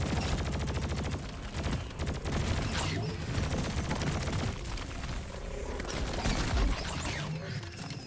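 Rapid bursts of weapon fire and explosive impacts in Deep Rock Galactic, likely including the drone Bosco's rockets, form a loud, dense barrage that continues almost without a break.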